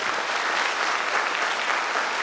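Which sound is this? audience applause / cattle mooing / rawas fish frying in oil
audience applause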